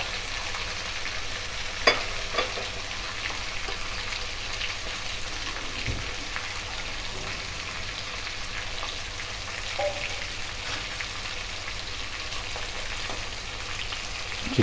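Chicken karahi fries in oil in a kadai, a continuous close sizzle and crackle with a few sharp pops and light stirring clatter, with no talking over it.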